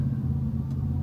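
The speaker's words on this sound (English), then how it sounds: "Let me turn the car on because I'm hot." A BMW X5 engine runs at a steady low idle, a continuous close rumble with no revving or talk.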